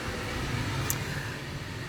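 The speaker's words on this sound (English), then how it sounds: "Sorry for the noise," A steady low hum and whoosh of a running heater fills the room, continuous and fairly loud, with no talking.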